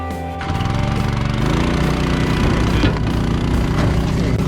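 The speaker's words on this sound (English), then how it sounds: "So I'm going to jump in the tractor, go fire up the pump and fill this thing." A tractor engine runs loud and close with a steady low rumble, and a water pump kicks in partway through, adding a harsher rattling drone that keeps on to the end.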